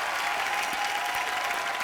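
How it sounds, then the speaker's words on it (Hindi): A studio audience on a TV comedy talk show applauds steadily to welcome a guest, a dense, even wash of clapping with no voices over it. "जोरदार तालियां इनके लिए"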